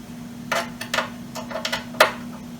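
Torx screws being backed out of a 1987 Compaq Deskpro 286 hard drive: a string of sharp, close metallic clicks at irregular intervals over a faint, steady hum.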